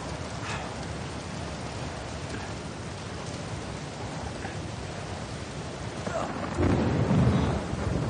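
Steady heavy rain in the PUBG video game, a dense continuous hiss that swells near the end with a low thunder rumble, with no voice heard.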